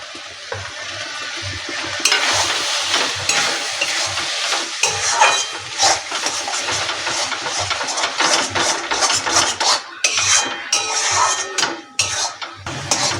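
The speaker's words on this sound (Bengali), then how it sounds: "এবার আমি ধনে পাটাটা নামিয়ে দিয়ে আর এক মিনিট নেড়ে দেবো" Eggplant bharta with coriander leaves stirred in a hot pan, scraping and clattering strokes over a soft sizzle, close and fairly loud, with a steady low hum underneath.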